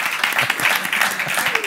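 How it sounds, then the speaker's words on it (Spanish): An audience at a book conversation event claps warmly, dense steady applause from a roomful of people, fairly loud and close throughout. "Un aplauso para Javi."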